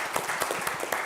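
A live audience at a startup pitch event breaks into applause: a steady wash of many hands clapping, with sharper individual claps standing out, lasting about a second.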